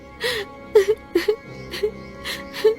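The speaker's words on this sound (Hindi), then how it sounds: "तभी किसी स्त्री के रोने की आवाज सुनाई दी।" A cartoon woman's sobbing and whimpering in a Hindi animated story, repeated short wailing breaths and moans in uneven bursts, close and fairly loud, with no other speech.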